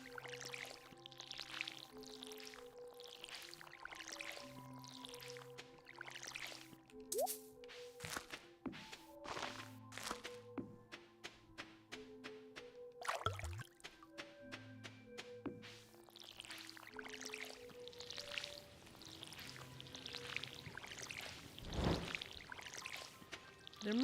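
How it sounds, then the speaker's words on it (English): Watering plants with a watering can in Stardew Valley, with short trickling pours and soft splashy taps repeating between gentle plucked background music notes, fairly quiet and steady throughout. "And now let's keep watering,"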